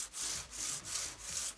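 A mica flake table edge is hand-sanded in steady back-and-forth strokes, a close, raspy rubbing with about four even passes and no voices.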